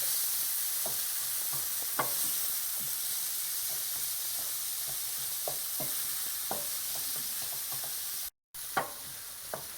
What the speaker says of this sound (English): The spicy green chilies are going in. Just keep stirring.